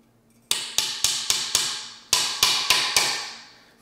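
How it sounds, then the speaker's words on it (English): Nine sharp hammer blows strike a nail into wood, a quick group of five followed by four more after a short pause, close and ringing. "And then I'm gonna hammer it the rest of the way in."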